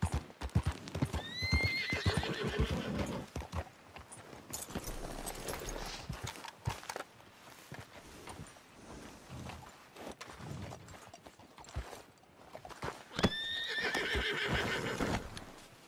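Horse hooves clip-clop and a horse neighs twice, loud and close, in the video game Red Dead Redemption 2, with scattered movement and thuds between the whinnies and no clear talk.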